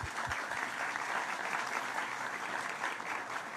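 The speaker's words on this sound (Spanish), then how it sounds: "pido un aplauso para él" Audience applause for an honoured congressional figure at a Spanish-language science and technology event: steady, dense clapping from a crowd that holds an even level throughout, with no voices over it.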